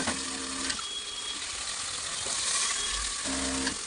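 Onion, potato and peas sizzling in hot tempering oil in a home kitchen, a steady crackling hiss at close range, with brief clinks of a stirring utensil near the start and end.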